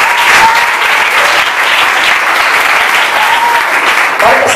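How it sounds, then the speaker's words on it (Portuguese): Loud, steady clapping from a church congregation during a worship service, dense and continuous throughout, with faint voices mixed into the applause. "Pode aplaudir, pode aplaudir."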